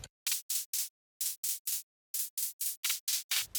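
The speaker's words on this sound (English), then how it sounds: "This is just one white noise oscillator with a short decay time and a Haas delay to spread it out to the sides" Short bursts of white noise from a single synth oscillator with quick decay and a Haas delay spreading it wide, firing in rhythmic groups of three or four crisp hisses with brief silences between.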